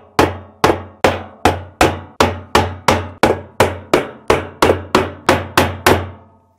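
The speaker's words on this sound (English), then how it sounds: "you can hammer directly on the shaft of the clutch" Hammer blows struck directly on the clutch shaft of a Samsung washer clutch assembly, part DC97-16984A, about fifteen loud, sharp metallic hits in a steady rhythm, close up and alone.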